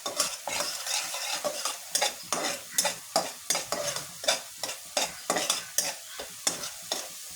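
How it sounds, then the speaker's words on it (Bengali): River fish fries in a pan with lauki waiting to go in, stirred briskly so a spoon scrapes in a steady rapid rhythm over constant loud sizzling, close and alone. "আমি এটা ভালোভাবে নেড়ে নেব।"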